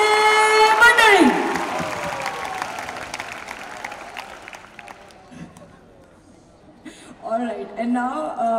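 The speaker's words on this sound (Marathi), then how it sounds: "एकदा जोरदार टाळ्या जॅकी दासाठी होऊन जाऊ दे मंडळी" An audience claps for Jackie Shroff at a Yoga Day event, a burst of applause under a sustained musical tone that tapers off, followed by a voice speaking near the end.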